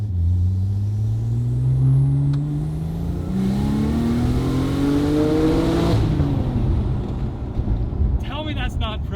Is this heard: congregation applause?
no